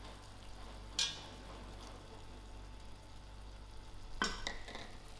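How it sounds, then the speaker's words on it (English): A spoon scrapes through cooked lamb mince with added sauce in a pan, two or three clear scraping strokes over a low steady background hum, fairly faint and without talk. "I'll give this all a quick mix"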